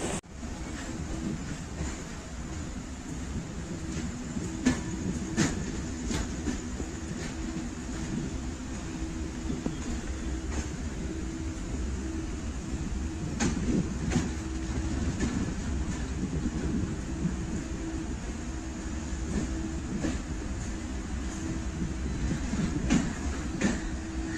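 Steady rumbling of a train rolling along the rails, heard from inside, with a continuous low drone and occasional rhythmic clacks and rattles.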